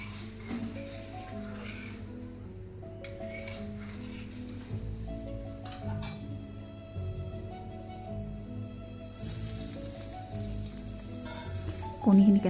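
Boiled eggs and chopped onion fry in a pan with only a little oil, a close, steady sizzle with intermittent stirring scrapes, and no one speaking over it.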